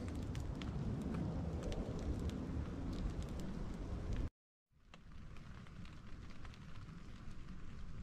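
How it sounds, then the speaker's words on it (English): Steady rain patters on a tarp thrown overhead at a wild campsite in Switzerland, a close, dense drumming that cuts out briefly midway and then resumes with scattered sharper drops. "Started raining, so we just threw this over the top."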